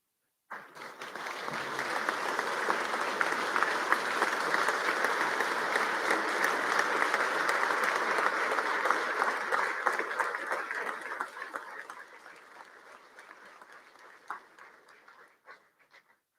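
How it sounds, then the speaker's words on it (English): Audience applauding the family of a victim during a governor's state address in a legislative chamber: a large crowd's sustained, dense clapping that starts abruptly, holds steady for about ten seconds, then thins to scattered claps and fades. "They deserve that round of applause for the bravery of coming here to confront this problem."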